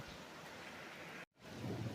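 Steady rain falls outdoors during a thunderstorm, a dense, even hiss that cuts out briefly and returns with a low rumble of thunder underneath.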